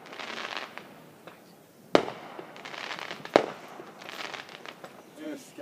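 Fireworks go off outdoors, two sharp loud bangs a second or so apart set against crackling bursts and people chatting nearby.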